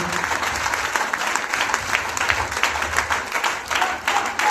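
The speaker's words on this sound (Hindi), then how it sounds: "एक बार उनके लिए जोरदार तालियां हो जाए" A crowd gives loud, sustained applause honouring an upline, Pratap Singh Rawat, at a pin and medal achievement event, with many hands clapping close and continuously.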